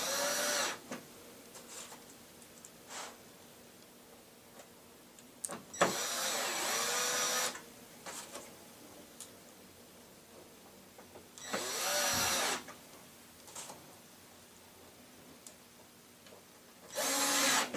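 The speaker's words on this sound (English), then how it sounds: "The holes are already pre-drilled, and you just anchor the screws down." A power drill drives screws into pre-drilled holes while a Forevermark whitewood Lazy Susan base cabinet is assembled, with loud bursts of driving at a few points separated by quieter handling noise and no speech.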